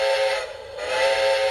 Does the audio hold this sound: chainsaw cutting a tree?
no